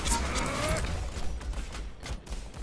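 Rapid gunfire aimed at Sigma in the video game Overwatch, a dense, loud burst of shots with game effects that runs nearly continuously through the moment.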